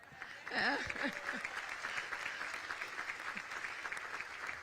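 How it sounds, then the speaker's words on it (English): A crowd at a community breakfast claps steadily at moderate volume, with a brief voice rising near the start before the applause continues evenly. "biggest applause goes to our Dana Hansen."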